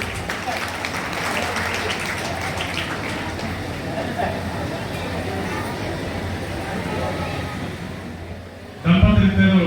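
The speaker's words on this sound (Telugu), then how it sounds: "చప్పట్లు." Applause at a school retirement ceremony honouring a teacher couple, a steady sustained wash of clapping from a large crowd running throughout, ending with a brief louder burst near the end.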